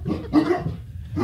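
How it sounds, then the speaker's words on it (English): A dog bark played by a smart-speaker animal-sounds skill gives a short burst of a few close, muffled barks and yips. "Alexa, bark like a coyote."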